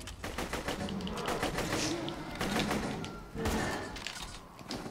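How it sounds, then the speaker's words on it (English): Rapid bursts of gunfire in the Borderlands 2 video game, rattling volleys and thuds piling up close and dense, with a voice talking over them. "Don't stop shooting!"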